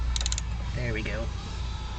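A socket wrench works the drain bolt on a Honda Rebel 250 motorcycle during an oil change, giving a quick run of about five light ratchet clicks and then a short squeaky creak over a steady low background hum.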